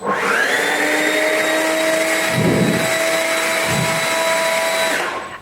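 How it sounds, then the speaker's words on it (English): A Stihl BGA86 battery-powered leaf blower runs steadily at full power, a loud, close, high-pitched whine with airy rush, rising at start and dropping off at the end. "A very powerful blower. This BGA86 is an excellent blower for larger gardens and also for commercial use."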